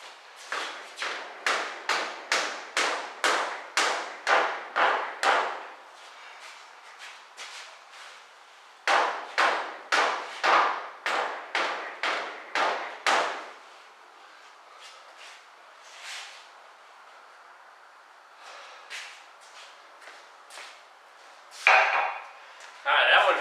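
Repeated hard metal hammer blows on a stuck front part of a 2000 BMW 323Ci, delivered in two fast rhythmic bursts of about a dozen strikes each, with scattered knocks and a voice talking in between.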